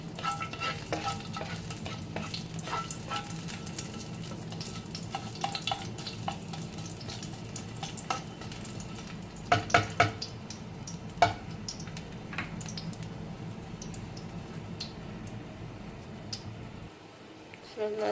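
Ginger frying in a pan for pork adobo, a soft steady sizzle with scattered stirring clinks and scrapes, heard at low level under a speaking voice.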